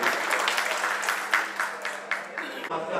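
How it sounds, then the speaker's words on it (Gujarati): Audience applause at a Kutch Prajapati community hall gathering, dense clapping sustained across the whole stretch with a few sharper bursts and a steady low hum underneath. "આપણે સૌ તાળીઓથી વધાવીશું"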